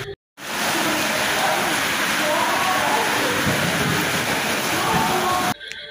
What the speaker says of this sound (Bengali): প্রথমবারের থেকেও জোরে বৃষ্টি শুরু হয়ে গেছে